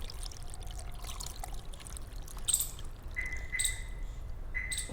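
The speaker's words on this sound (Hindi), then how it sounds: "अब हम इसको छान लेंगे, सेपरेट कर लेंगे, छिलकों को इस पानी में से निकाल लेंगे।" Water in which peels have been soaked pours through a kitchen sieve, a soft continuous trickle and splash close by, with a few faint high chirps in the background.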